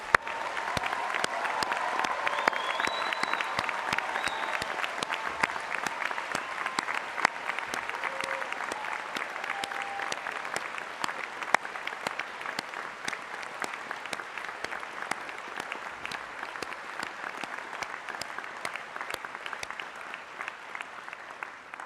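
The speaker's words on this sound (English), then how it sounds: "I invite you to share your appreciation for their achievement by applauding all of their efforts" A large audience at a university graduation ceremony applauds the graduates with sustained, steady, dense clapping that fills a big hall at a constant level for over twenty seconds, with faint crowd murmur beneath.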